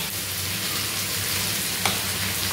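Pomfret fish curry masala with fried potatoes sautés in a pan, giving a steady, even sizzle and crackle that carries on unbroken and close throughout.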